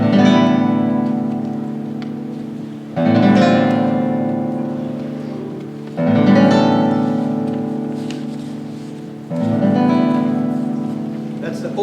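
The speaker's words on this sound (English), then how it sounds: "It starts off with these great chords that sound like this." Opening chords of Ginastera's guitar sonata from the mid-1970s, four loud strummed guitar chords spaced about three seconds apart, each left ringing and fading before the next.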